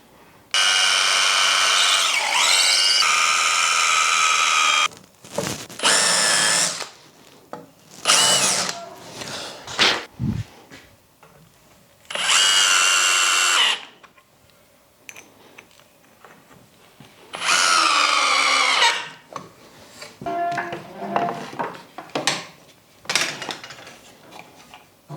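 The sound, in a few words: driving screws into wooden jig fence stop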